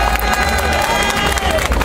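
Loud outdoor crowd at a public service strike rally in a town square, applauding and cheering striking railway workers, a dense roar of clapping and voices close by with a mid-pitched shout trailing through it.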